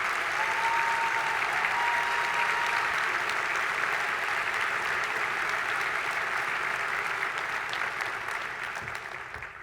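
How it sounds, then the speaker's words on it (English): Sustained applause from a large keynote audience at an Air Force Association conference honoring an airman, a broad, steady roar of clapping that gradually fades toward the end. "Y'all give him a big round of applause."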